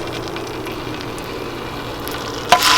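Chopped onion frying in a pan for a spelt and leek pilaf gives a steady, soft sizzle throughout, with a sharper clatter or burst of hiss near the end.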